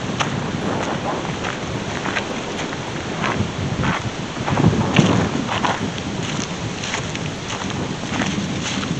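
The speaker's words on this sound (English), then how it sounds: "just a little windy" Strong wind buffets the microphone in a steady, rumbling roar, with gusts swelling louder around the middle before easing back.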